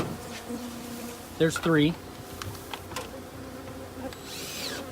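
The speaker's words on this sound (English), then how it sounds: "Still a lot of bees on that." Bees buzzing around a 15-year-old hive being captured, a faint steady hum with a couple of louder buzzes passing close, while a person speaks briefly.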